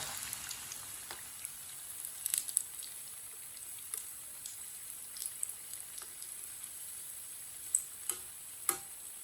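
Aloo tikki potato patties frying in a pan make a steady, soft sizzling hiss throughout, with occasional small crackles and pops and no talking.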